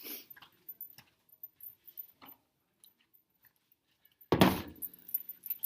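Brief scattered clicks and rattles of someone rummaging for colored pencils, with a sharper, louder clatter near the end; quiet room, no talking.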